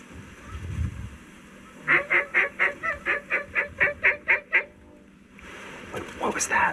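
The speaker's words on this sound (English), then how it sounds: "I think that was a goose." Ten evenly spaced goose honks ring out in a quick run overhead, loud and clear, with some outdoor rumble before and a voice speaking afterward.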